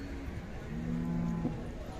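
A breeding bull from an old race line lets out a low, drawn-out bellow lasting under a second, steady and fairly close, over a constant outdoor background hum.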